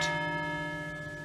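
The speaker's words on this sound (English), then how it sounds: "we hear the bells chiming there" A church bell rings once and its tone hangs in a long, steady hum of resonant overtones, fading slowly and heard clearly alone.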